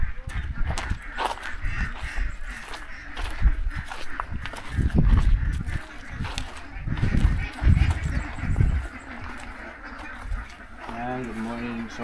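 Flock of ducks on a duck farm quacking and honking in a busy chorus, loud and close, with someone talking over the birds through much of it.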